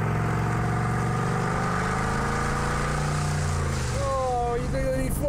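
Twin-turbo V8 of a Mercedes-AMG GT R idling with a deep, steady drone, its pitch sliding gently as the engine is blipped lightly, then settling near the end while someone talks over it.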